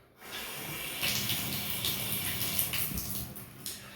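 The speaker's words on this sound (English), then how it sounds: "So turn the water on." Water runs from a newly installed tub spout with copper transition during a leak test, a steady rushing hiss that starts abruptly and continues close and moderately loud with no voices.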